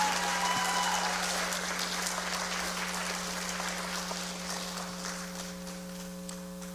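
Audience applause for National Honor Society inductees at a senior high induction ceremony, a dense steady clapping that slowly thins over several seconds, with a constant electrical hum underneath.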